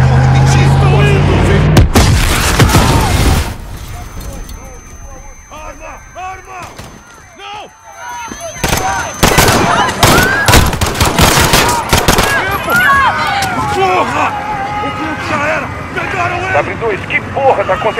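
In a Call of Duty Modern Warfare 2019 campaign scene in London's Piccadilly Circus, a dense burst of loud gunfire and blasts opens, then combat noise and shouted voices continue, with further shots and rumbling throughout.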